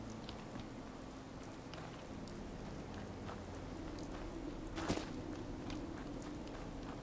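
Rain falls in the video game Fallout 4 while walking through a forest, a faint steady patter with soft footstep-like rustles and a brief louder crackle near the five-second mark.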